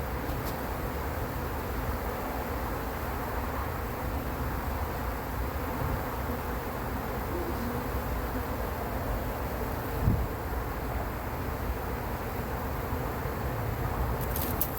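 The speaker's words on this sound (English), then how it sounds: "you can see most of the bees are now coming to the bucket underneath or to the box" A dense honey bee swarm hums continuously at close range as it is collected into a bucket and box, a steady droning buzz with wind rushing over the microphone.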